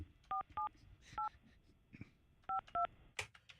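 Telephone keypad dialing tones beep in a quick irregular sequence of short dual-tone presses, with faint background chatter and studio noise of a morning radio show.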